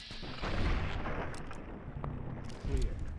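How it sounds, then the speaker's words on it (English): Rumbling gunfire and explosions from a video game fill a short stretch, dense and booming throughout, with a voice heard faintly underneath. "Speak to Caesar with my gun."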